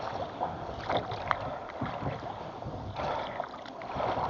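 Oars dipping and pulling through water as a small fishing boat is rowed without a motor on a river near a village, quiet rhythmic splashes and swishes with light wind noise around them.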